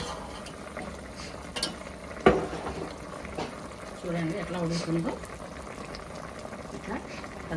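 Andhra-style fish curry bubbles under a lid on high flame, a faint low boiling murmur with a few clinks and a brief lid or utensil knock, while a person talks over it.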